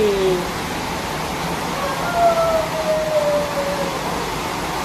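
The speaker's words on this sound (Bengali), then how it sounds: "ওই অনেক জোরে বৃষ্টি হচ্ছে" Heavy rain pours down as a dense, continuous hiss that fills the whole stretch, with a faint whistling tone drifting through the middle.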